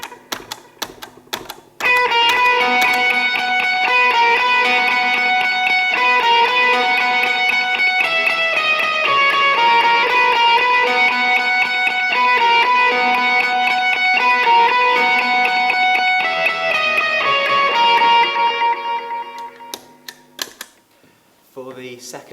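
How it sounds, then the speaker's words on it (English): A sustained run of crunchy, overdriven electric guitar notes through a crunch pedal and delay, with echoing repeats, ringing steadily before fading out. "So then when we add in the crunch box and the delay as well, it will sound like this."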